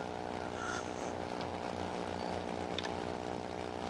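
A propeller plane drones steadily in the Second Life virtual world, its engine hum and airscrew buzz holding constant and fairly loud throughout with no voices.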